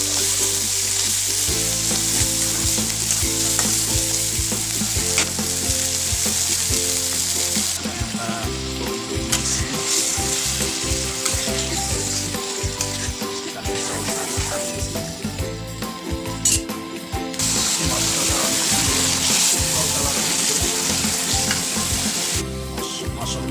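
Spices frying and being stirred in a pan for chicken curry, a loud continuous sizzle with stirring scrapes and clatter running throughout.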